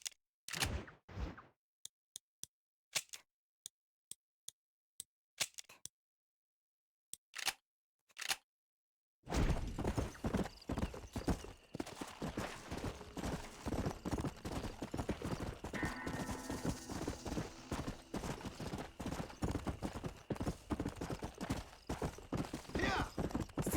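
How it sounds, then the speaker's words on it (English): Horse hooves in the video game Red Dead Redemption clip-clop in a dense, rapid rhythm while riding. Early on the sound comes as sparse separate clops, then turns to continuous galloping hoofbeats heard up close and fairly loud. "Having a hard time steering horse."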